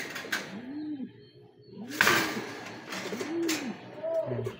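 Racing pigeons in a loft coo repeatedly and close by, a series of soft rolling coos over low background noise and occasional rustling.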